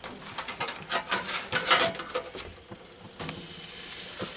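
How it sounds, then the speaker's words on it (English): Pork spareribs laid on a preheated barbecue grill crackle and hiss loudly at first, with scattered clicks and pops, then settle into a steadier, fainter sizzle; faint bird calls sit in the background. "We're going to put our ribs on the grill."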